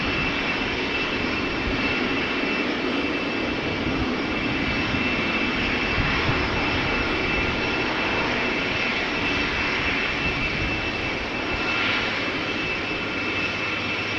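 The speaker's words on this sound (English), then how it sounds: "Cargolux Italia 747, check it out." Cargolux Italia Boeing 747 jet at Amsterdam Schiphol airport, a loud continuous roar of engines with a steady whine, sustained and fairly close throughout, with no talk.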